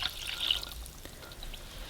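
Warm water pours into a bowl of potato flakes and sugar, a short soft splashy trickle that is brightest at the start and fades to a faint, steady wash.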